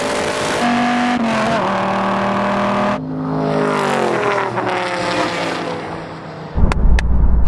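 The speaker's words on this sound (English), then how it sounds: "That time, my engine bogged down a bit because I had less revs, because I didn't want so much wheel spin" A Ford Mustang or Dodge Viper launches hard, its engine revving loudly with rising and shifting harmonic tones, settling briefly before a sudden burst of rough low-end roar near the end.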